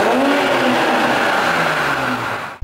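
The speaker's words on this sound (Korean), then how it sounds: "840i가 3000cc 6기통 차량인데도 불구하고 이런 배기음들이 들어가 있다는 거는 저는 진짜 완벽하다라고 생각을 하고" A BMW 840i Gran Coupe's 3.0-litre six-cylinder engine revs hard, its exhaust note holding loud and steady close by before cutting off abruptly near the end.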